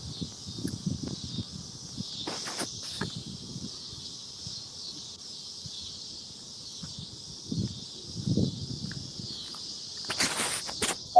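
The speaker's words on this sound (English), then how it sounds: "Are those cicadas in the background at your place?" Cicadas buzz in the background outdoors as a steady high-pitched drone that lasts the whole time, with louder swells near the start and end and scattered rustling and knocking nearby.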